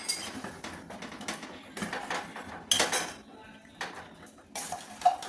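Homemade face-brightening soap ingredients being stirred in a bowl, with irregular scraping and clinking of a utensil against the dish at close range.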